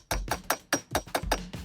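Hammer tapping a pin into the latch of a wheeled Pelican cooler, seven sharp close metallic strikes in a steady rhythm, each with a short ring, with no talk.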